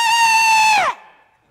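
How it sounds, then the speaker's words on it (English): A single high-pitched scream from a person, loud and sustained for about a second before dropping off sharply into a quiet tail, with no talk over it. "What are you screaming for?"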